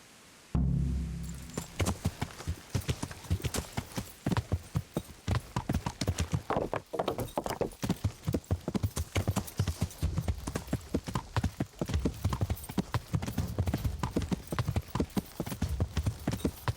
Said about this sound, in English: We will take the black horse in there.